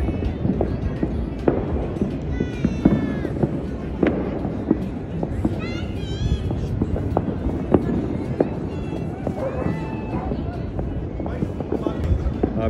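Fireworks bursting during Makar Sankranti celebrations in Jaipur, with repeated sharp cracks and pops scattered irregularly over a busy outdoor crowd and whistling rockets, while someone talks over the noise.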